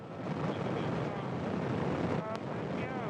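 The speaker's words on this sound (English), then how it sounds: "Liftoff of the Soyuz rocket." A Soyuz rocket's engines roar at liftoff as a steady, broad, rumbling wash of noise with no distinct breaks, heard from a distance like heavy wind.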